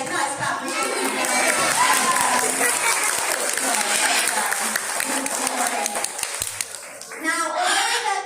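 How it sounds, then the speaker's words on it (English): An audience at a parrot show at Longleat gives a burst of applause, dense clapping with scattered cheers and children's shouts, fading briefly and then rising again near the end. "Nice clap for you."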